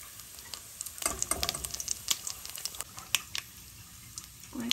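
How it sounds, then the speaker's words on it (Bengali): Panch phoron spices crackle and sizzle in hot oil in a pan, a steady busy fry with sharp popping ticks throughout, close and fairly loud with no talk. "এবার ওই পেড়ের ভিতর দিয়ে দেব পাঁচফোড়ন"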